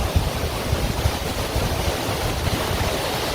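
A waterfall pours steadily on a day hike among flowers, its broad, hissing roar close and constant throughout with no speech over it.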